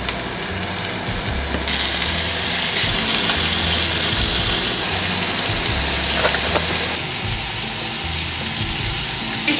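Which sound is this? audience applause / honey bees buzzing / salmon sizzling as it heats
salmon sizzling as it heats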